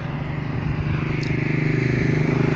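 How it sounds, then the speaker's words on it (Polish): A motorcycle engine nearby, a loud throbbing pulse that grows steadily louder as it approaches, with a rapid rhythmic beat throughout. "Patrzcie, motor."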